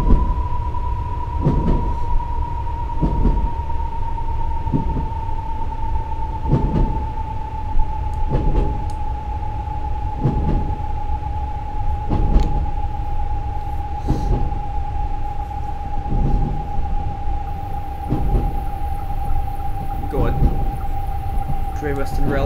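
Metropolitan Line train slowing into a station in Train Simulator 2018, with rhythmic clunks over rail joints spaced evenly at about two-second intervals and a steady tonal whine slowly falling in pitch.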